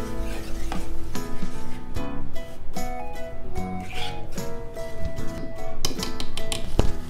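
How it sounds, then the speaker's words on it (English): Flour dough with yeast and chili powder mixed in a bowl, continuous close rubbing and scraping with occasional clinks of the utensil, steady and fairly loud under background music. "Add 1 tablespoon chili powder and mix it again."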